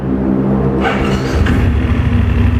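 A 2019 BMW F750GS motorcycle engine idling close by, a steady low rumble with a brief rise in revs midway before settling back to a smooth even idle.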